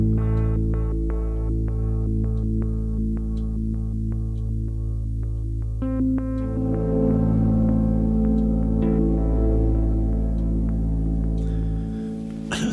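An electric piano patch from Native Instruments Alicia's Electric Keys, the filtered changes preset, plays sustained chords with repeated soft pulsing notes, then shifts to a fuller, brighter swell midway, continuous and close with no talking.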